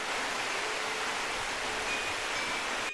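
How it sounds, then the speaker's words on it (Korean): A long slab-like waterfall pours over rock beside a mountain trail on Geumosan, giving a steady, broad rushing wash that stays even throughout, with a brief knock at the very end. "한쪽에 느슨한 폭포가 하나 나오고 슬랩 같은 폭포가 꽤 기네"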